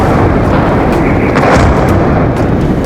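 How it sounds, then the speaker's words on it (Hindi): A missile explosion near Lviv during the Russia-Ukraine war, a loud, dense roaring blast with sharp crackling bursts, sustained and overwhelming throughout with no voices. "यूक्रेन की एक मिसाइल पोलैंड की तरफ दागी गई। धमाका लवीव के करीब।"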